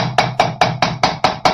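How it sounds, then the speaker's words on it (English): A hammer strikes soft aluminum wire being shaped into a bangle, seven sharp, evenly spaced metallic blows about a fifth of a second apart, close and loud with no talking. "I'm going to hammer this stuff, but I'm not hammering over the wire itself, because aluminum is so soft."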